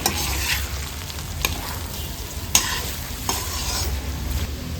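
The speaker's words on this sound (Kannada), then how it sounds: "ನೋಡಿ, ಈ ರೀತಿಯಲ್ಲಿ ಪೋರ್ಕನ್ನು ಕಡಕ್ಕಾಗಿ ಫ್ರೈ ಮಾಡುವಾಗ ನಾವು ಹಾಕಿದ 1 ಚಮಚ ಎಣ್ಣೆ ಮತ್ತು ಈ ಪೋರ್ಕಲ್ಲಿದ್ದ ಆಯಿಲ್ ಎಲ್ಲ ಈ ರೀತಿಯಲ್ಲಿ ರಿಲೀಸ್ ಆಗೋಕ್ಕೆ ಸ್ಟಾರ್ಟ್ ಆಗುತ್ತೆ" Salted pork pieces fry crisp in a little oil and their own released fat for Coorg-style chilli pork, with a steady close sizzle broken by a few sharp scrapes of stirring in the pan.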